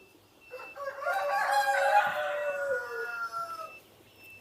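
A single rooster crows clearly and fairly loudly on a poultry farm, one drawn-out call lasting about three seconds against a quiet background.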